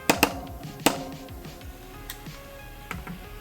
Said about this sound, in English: you can remove those 3 screws now